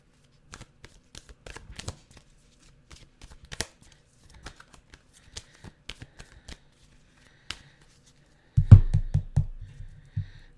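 A deck of tarot cards is shuffled by hand in quiet, with scattered soft riffling clicks and taps, ending in a louder, rushing burst of cards being shuffled close by.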